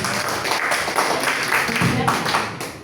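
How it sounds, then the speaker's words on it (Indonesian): Seminar audience at a government employee orientation applauding a new civil servant, a continuous wash of clapping from many hands, fairly near, with a voice speaking over it. "Tepuk tangan dulu dong untuk Pak Ari."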